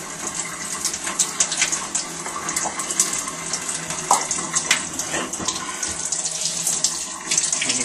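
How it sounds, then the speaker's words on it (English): Warm water running from a tap while an arm is washed, a steady close splashing flow with small shifts as the arm moves through the stream. "he's going to just put some warm water on his arm, apply the cleanser"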